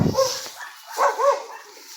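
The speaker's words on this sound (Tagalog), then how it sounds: "Tahol lang nga." A dog barks a few times close by, short sharp yelps with brief pauses between them.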